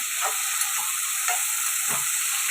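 Eggplant and tomato gongura curry frying in a pan, a steady close sizzle with a few soft stirring scrapes, no voices.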